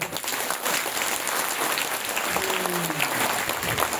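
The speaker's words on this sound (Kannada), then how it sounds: "ಜೋರಾಗಿ ಗಾಯಕರಿಗೆ ಕೈ ಮ್ಯಾಲ್ ಮಾಡಿ ಚಪ್ಪಾಳೆ ತಟ್ರಿ ನೋಡು" An audience at a religious discourse applauds the singers, a dense, steady patter of many hands that hisses like rain and runs the whole time under faint background tones.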